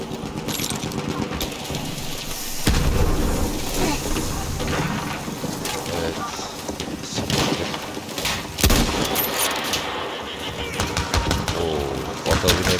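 Loud Battlefield 1 combat fills the clip, with repeated gunfire bursts and a heavy explosion boom, dense and continuous throughout.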